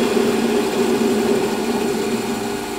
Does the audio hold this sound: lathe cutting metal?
yes